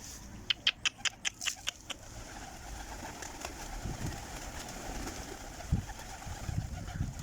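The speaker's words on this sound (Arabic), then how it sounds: "طيور حمر غربة طلعت قبل." Pigeons on a rooftop coo softly and intermittently in the background, with a quick burst of sharp clicks or taps early on, plus faint rustling and a few low thumps toward the end.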